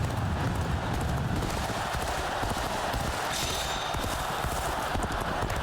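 Hooves clip-clop steadily from a galloping horse ridden in the video game Dynasty Warriors: Origins, a fast continuous beat under dense background noise.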